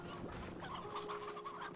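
Chickens cluck in a pen in the video game Slime Rancher 2, a steady run of soft clucks over a continuous background tone with no talk.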